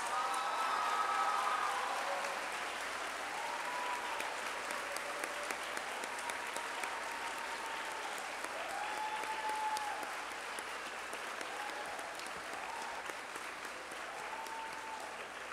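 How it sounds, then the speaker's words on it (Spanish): Sustained applause from a large crowd honoring new chemistry and engineering graduates at a university graduation ceremony, a continuous, fairly distant wash of clapping that carries on steadily with faint tonal sounds drifting through the hall. "Les pido nuevamente un fuerte aplauso a los ahora licenciados químicos e ingenieros."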